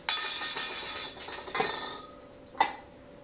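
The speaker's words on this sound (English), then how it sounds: "I'm just going to put the lids on all of them" Glass yogurt jars being closed with lids, a sharp clink and clatter at the start, a quieter clink around the middle and one more short clink near the end, close up with no talking.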